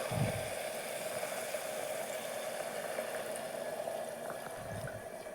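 Masala-spiced water simmers in a pot for a beetroot and green peas biryani, giving a faint, steady bubbling hiss throughout with no voices.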